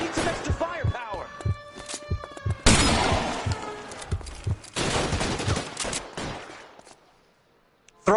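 A video game shootout in LA Noire on PS4 brings rapid bursts of gunfire, with sharp repeated shots and dense volleys mixed with game sounds, then the noise dies to near silence.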